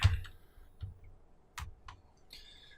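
Keys tapped on a computer keyboard while a player's name is typed, heard as a few scattered, fairly close clicks with quiet pauses between them.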